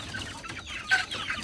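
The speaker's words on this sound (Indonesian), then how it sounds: "Yang belah sana ayam kampung tuh, yang belah sana. Yang ini ayam mardi ori, jantan semua." Backyard flock of kampung and Mardi Ori chickens, with a pen of all-male Mardi Ori birds, clucking and calling close by in a steady, overlapping burst with one louder squawk partway through.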